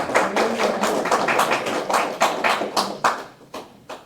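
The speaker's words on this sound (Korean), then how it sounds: "박수, 박수로 부탁합니다." Audience applause at a San Francisco scholarship award ceremony, a crowd clapping in a dense patter of claps that thins toward the end, heard alone without talk.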